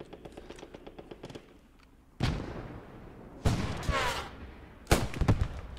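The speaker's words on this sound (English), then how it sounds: "Alright, two guns engaging the second tank lower down." Guns fire on a tank in the Post Scriptum game during the Nijmegen campaign. Three loud, booming shots arrive a second or so apart, each with a rolling tail, over quieter clicking and background battle noise.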